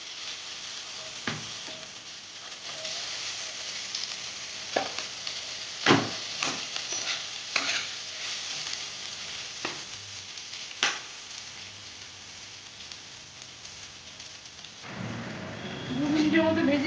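Sliced onions and slit green chilies with bay leaf frying in oil for a Bengali rohu fish curry with drumsticks, a steady close sizzle with scattered sharp stir and pan clicks, swelling louder near the end.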